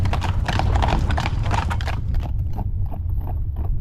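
Hooves of two work horses clip-clop steadily as they pull a cart together, the rhythmic clopping loud and close over a constant low rumble of wheels and road.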